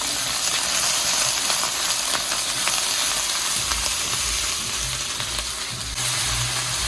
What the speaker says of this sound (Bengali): এবারে সুন্দর করে মশলাগুলো কষিয়ে নেব।